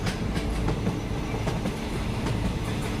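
Train running along rail tracks, a steady loud rumble with rhythmic clickety-clack of wheels over rail joints, continuous and close throughout, no voices.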